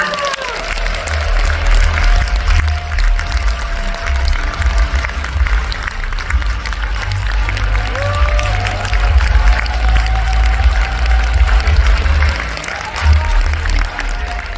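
Audience at a convention event applauds to welcome the CEO of HM Pharma to the stage, a loud, steady wash of clapping and crowd noise with deep rumble underneath, lasting throughout and fading slightly near the end.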